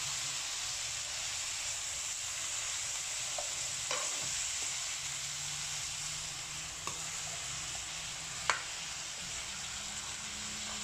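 Broccoli and carrots stir-frying in a hot pan give a steady, close sizzling hiss that runs the whole time, broken by a few sharp clicks and scrapes of a utensil against the pan.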